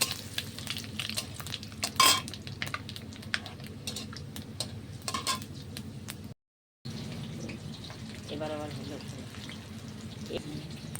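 Panch phoron, dry red chilies and whole bay leaves sizzle in hot oil in a kadai, a steady crackling fry with occasional sharp pops and stirring clinks, broken by a brief silence.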